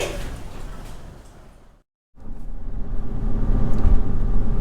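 Car interior during a drive, a steady engine and road rumble that drops out briefly, then returns louder and continues, with no talk.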